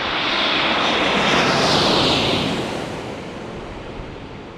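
A Japan Airlines heavy airliner roars loudly overhead on landing at San Diego, a dense broadband engine rush that peaks and then gradually fades as it passes.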